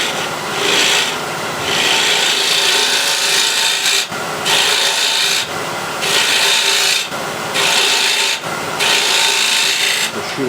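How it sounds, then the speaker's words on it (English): A small spindle gouge cuts into a wooden box held in a jam chuck on a lathe, giving a close, loud rasping hiss in steady passes broken by brief pauses. "So I'll use a small spindle gouge, and hopefully I won't go through the bottom."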